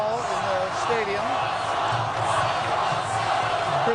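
A large stadium crowd cheers steadily for Ron Paul after straw poll results are announced, a broad and distant roar that runs under a voice speaking throughout.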